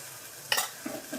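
Salted potatoes are stirred in a frying pan, with a quiet sizzle and a few brief scraping bursts of the spoon, alone and fairly faint.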